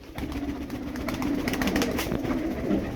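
A pet bird, kept on budgie seed, coos softly and repeatedly close by, low warbling calls over light background noise.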